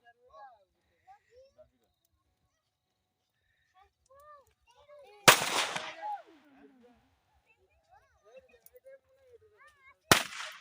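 Firecrackers burst outdoors during Makar Sankranti celebrations, two sharp loud bangs several seconds apart, the first with a short ragged crackle after it, amid quiet background sounds.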